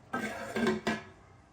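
A lid goes back onto a clay pot of simmering fish curry in coconut milk, giving three quick, faint metallic clinks and scrapes close by, with no talk.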